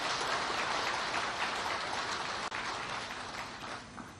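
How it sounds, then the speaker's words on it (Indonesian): Dense, steady clapping from a large audience welcoming Indonesian President Prabowo Subianto at a formal gathering of regional parliament leaders at the Magelang military academy, sustained throughout with a brief dip near the middle. "Tepuk tangan yang meriah untuk beliau."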